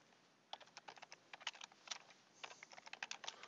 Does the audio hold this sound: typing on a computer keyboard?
yes